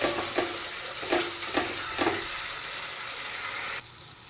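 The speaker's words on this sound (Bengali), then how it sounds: "এবার আমি সামান্য দই দিয়ে দেবো এবার মশলাটা আর একটু কষিয়ে নেব" Spice masala with a little yogurt fries in a pan with a continuous close sizzle, while a spatula scrapes and stirs in four or five regular strokes before the hiss continues alone.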